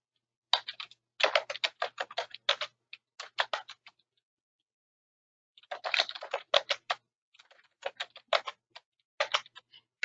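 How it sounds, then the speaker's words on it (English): Computer keyboard typing in two close bursts of rapid, crisp key clicks separated by a few seconds of silence, clear and alone with no voices. "begin to type in your demographic information"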